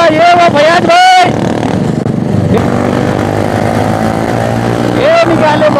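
Motorcycles on a group Sunday ride roar along the road, a loud close engine drone that rises and falls with revving, while riders shout and talk over it.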